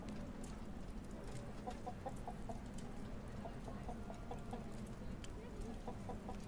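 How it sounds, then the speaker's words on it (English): Chickens clucking in short, repeated bursts over a constant rustling background, fairly close and moderate in level, with scattered faint higher calls. "the nice soothing sounds of chicken"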